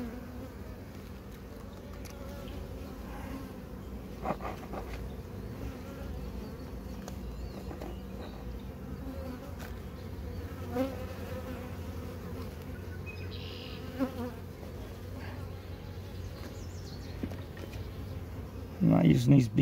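Continuous low droning buzz of many honeybees in a queenless hive, close and steady, with occasional louder thumps and handling noises as queen cells are checked and a sharp clatter near the end.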